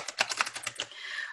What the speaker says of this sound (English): Gave those a quick shuffle.